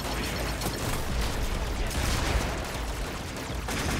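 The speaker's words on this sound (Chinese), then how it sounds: "机枪" Machine gun fire in a video game forms a dense, continuous crackle of rapid shots for several seconds, loud and busy with layered reports, and no voices over it.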